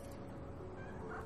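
Cat meowing in the Final Fantasy VII Remake video game, a brief faint call set in steady game background ambience.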